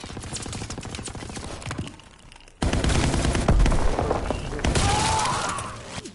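Loud, dense shotgun blasts from incendiary shells during a Call of Duty WWII multiplayer match, with a brief quieter lull before heavy repeated firing and explosive thumps resume.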